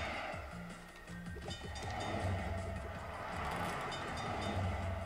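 A train rumbling past in a Frogger-style arcade game running on Raspberry Pi OS, a steady low mechanical roar with a droning tone that swells slightly over five seconds.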